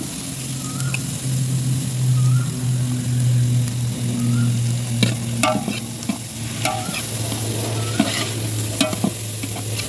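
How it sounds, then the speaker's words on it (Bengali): Yellow, green and red capsicum are stir-fried in a pan for a village-style egg Maggi masala, giving a constant sizzle with a low hum underneath and repeated scraping clinks of a spatula stirring. "এরপরে আমরা এর মধ্যে হলুদ ক্যাপসিকাম, সবুজ ক্যাপসিকাম, লাল ক্যাপসিকাম মিক্সড করে এর মধ্যে দিয়ে দেবো।"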